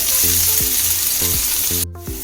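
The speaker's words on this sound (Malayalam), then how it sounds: "സവോള ഇട്ട് കൊടുക്കാം രണ്ട് രണ്ട് വേപ്പിലയും ഇട്ട് കൊടുക്കും" Onion and curry leaves fry in a pan for a chicken roll filling, a loud close sizzle with repeated scraping stirs throughout the short stretch, no talk.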